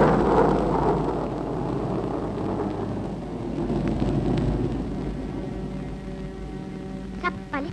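A thunderstorm with rain, low rumbling thunder rolling under a steady wash of rainfall, fairly close and continuous, with a brief higher tone near the end.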